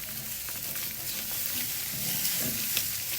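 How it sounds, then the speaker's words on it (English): Eggs fry in bacon grease in a pan on a 1908 Home Comfort wrought-iron wood/coal stove, a dense, continuous crackling sizzle up close with a few small pops and no talking. "I'm cooking them in the bacon grease"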